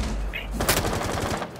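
A quick burst of automatic gunfire in the tactical shooter game Rainbow Six Siege, with rapid rattling shots and a sharp impact, loud and close amid game sounds.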